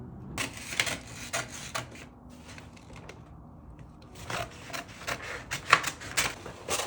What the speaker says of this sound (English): I'm gonna cut this out and then add the straps to the top after I cut it out.